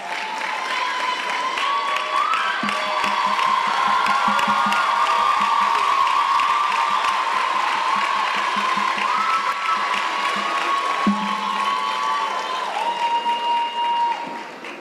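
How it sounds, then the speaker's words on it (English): A graduation and transition ceremony crowd at Green Pond High School applauds its graduates, with sustained clapping mixed with cheers and whoops, while music plays underneath throughout. "ladies and gentlemen, we give them a round of applause"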